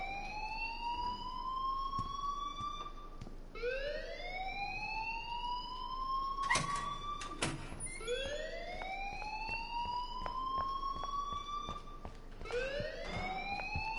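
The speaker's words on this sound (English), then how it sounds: "please turn off that alarm since that's your job" A school alarm in the video game Life is Strange wails in repeated rising sweeps, loud and continuous, with a couple of sharp knocks in the middle and no talking.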